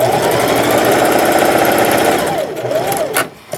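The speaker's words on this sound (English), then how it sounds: "So when you're sewing your last sleeve in or whatever fabric here, leave yourself enough room to hem this." Sewing machine stitching a denim jumper sleeve, a loud, steady mechanical whir close to the microphone for about two and a half seconds, then slowing and stopping with a few clicks.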